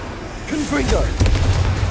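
Confringo blasting spell in Hogwarts Legacy, a booming burst with rumbling low end after a brief whooshing cast, loud and close, with a voice speaking just before.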